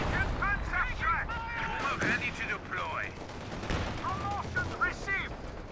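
Artillery shells and gunfire in a World War II tank strategy game, with rapid pops and bursts of explosions under voices talking over the action throughout.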